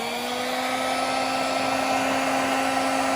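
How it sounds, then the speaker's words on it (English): A hair dryer on its high setting blows hot air to shrink heat-shrink tubing over a repaired car wire, giving a steady, close whirring hiss with a constant tone and no voices. "You get your heat gun, or if you have a hair dryer,"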